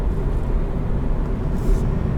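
A 2020 Subaru BRZ with a manual gearbox drives along, its engine a low steady drone mixed with road and cabin noise, heard from inside and fairly even in level.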